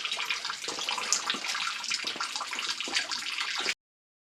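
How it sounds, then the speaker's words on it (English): Water rushes and gurgles steadily as a house's plumbing is drained out through the taps, a continuous close splashing flow that stops abruptly near the end. "I'm trying to drain all the water out of the whole system out here"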